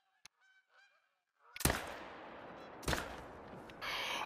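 Geese honking in theHunter: Call of the Wild, a few faint honks at first, then loud gunshots with rolling echoes and a sustained in-game noise toward the end.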